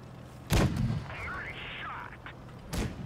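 Two heavy tank gun shots boom in World of Tanks Blitz, a loud blast followed by a second about two seconds later, with faint game sounds between them.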